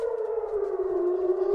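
An air raid siren wails in Israel, a single steady tone sliding slowly downward, loud and sustained with no voices over it.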